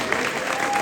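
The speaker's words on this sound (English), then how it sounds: "one more round of applause for all the volunteers" A brief burst of audience applause at the Overlook Film Festival, a round of clapping for the volunteers, dense and steady throughout the short moment.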